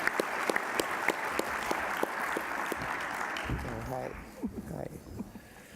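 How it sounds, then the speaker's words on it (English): Audience applause at an award ceremony, dense clapping with a few sharp louder claps up close, fading out after about four seconds as a voice takes over. "give them a round of applause"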